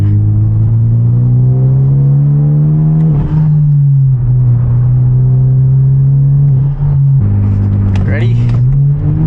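A Hyundai Genesis Coupe with full bolt-ons, an aftermarket exhaust and over 300 horsepower drones loudly from close inside the car, its exhaust note rising under acceleration and dipping briefly at gear changes.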